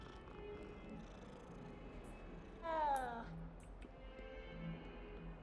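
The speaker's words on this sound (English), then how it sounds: "Is that a cat? Hello. Hello, little kitty." A cat meows inside the video game Hogwarts Legacy, a single short, fairly clear call rising over a low steady background of game ambience and music.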